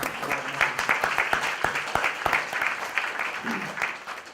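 An audience claps during a community event on building trust between police and the public, with a sheriff speaking: loud, steady applause from many hands that lasts a few seconds and then thins out.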